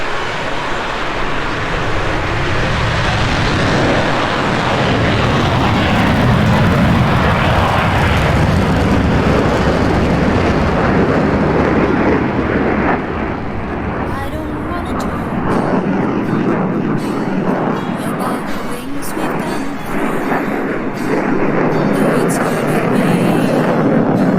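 A SAAB jet fighter roars on full afterburner for takeoff at an air show, a loud sustained blast that swells and then thins as it climbs away, with a commentator talking over it.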